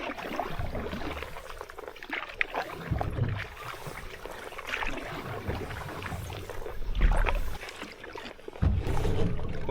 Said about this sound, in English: I'm gonna try to get 2 hours of paddle, trolling a bit